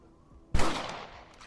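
A single sharp rifle shot in Red Dead cracks out loud and close, then trails off in a short echoing decay.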